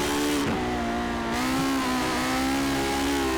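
Lotus 49 with a naturally aspirated Cosworth engine in Project Cars at the Nurburgring, howling steadily at high revs throughout with slight pitch wavers as the throttle shifts, loud and close with no talk.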